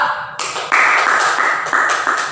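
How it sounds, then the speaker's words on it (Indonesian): A classroom group applauds in a dense, hissing burst of clapping that swells after a brief pause and holds steady for a couple of seconds, with no talking over it. "beri tepuk tangan kepada kelompok 2"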